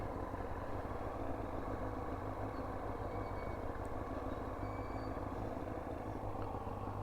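A Yamaha R1 motorcycle idles steadily and evenly up close, a constant low engine drone with no change in revs throughout.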